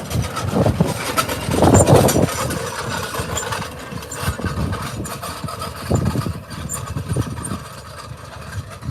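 A tractor engine idles with a low, uneven rumble that swells louder briefly and then settles into a steady chug, during a groundnut harvest.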